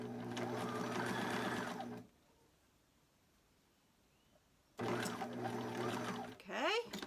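Two bursts of a humming sewing machine run straight long stitches along sleeve lines with no backstitching, separated by a few seconds of near silence; the second burst ends in a brief rising whine.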